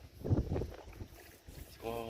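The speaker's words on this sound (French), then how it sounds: "Toujours un peu de vent." Gusty wind buffets a microphone outdoors on the bank of the Saône during a carp fishing trip, with low rumbling bursts, someone talking briefly and a faint tonal sound near the end.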